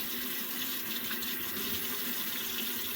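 Hot water runs steadily from a tap into a sink, a constant hissing splash with no voices.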